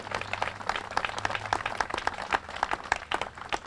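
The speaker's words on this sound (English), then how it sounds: "that's great, you can clap about it" Audience at the New Lenox veterans' memorial re-dedication ceremony bursts into dense, continuous applause, many hands clapping at once throughout.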